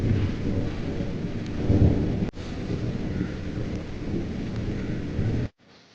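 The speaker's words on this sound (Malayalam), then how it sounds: "ഒരു അടിപൊളി മഴ വരുന്നുണ്ട്." Thunder rumbles low and heavy over the steady hiss of rain beginning to fall, sustained and fairly loud throughout, with no voices, before stopping abruptly.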